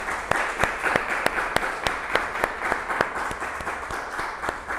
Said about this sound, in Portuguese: queria pedir uma salva de palmas aí para ele